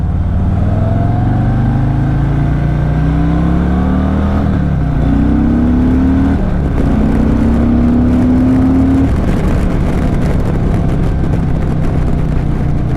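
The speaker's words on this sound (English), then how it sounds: "let's finish with a nice acceleration" A 2024 Harley-Davidson Fat Boy 114 motorcycle accelerates hard through several gear changes, its loud rumbling engine note climbing in pitch, dropping at each shift and climbing again before fading into wind noise.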